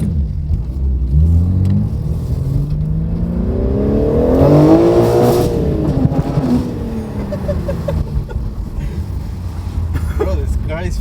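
A BMW G80 M3 fitted with an equal-length mid-pipe accelerates hard through first and second gear, its exhaust note rising and falling in loud, close sweeps as people talk over it.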